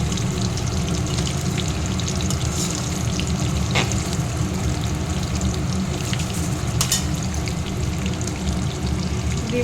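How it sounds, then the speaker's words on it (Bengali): Boiled potatoes tinted with food colour fry in hot oil for chicken biryani, giving a steady, dense sizzle close up with occasional crackles, and no talking throughout. "সেদ্ধ করে নিয়েছিলাম আলুগুলো,"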